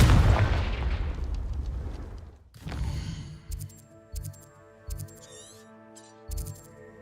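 Hogwarts Legacy Confringo fire-blast spell: a big rumbling explosion with a long noisy roar that fades, followed by several short sharp bursts and crackling impacts spaced about a second apart over a ringing tonal bed.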